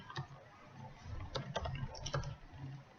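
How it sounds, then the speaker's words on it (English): Someone types a password on a computer keyboard, with a few irregular keystrokes clicking close by in a quiet room. "You quickly type in the same password"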